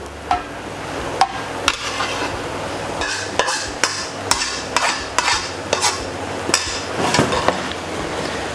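Cooked rice for homemade Chinese takeaway is scooped into a dish with a metal utensil, giving a run of sharp, close clinks and scrapes against the dish at an uneven rhythm, with no talking.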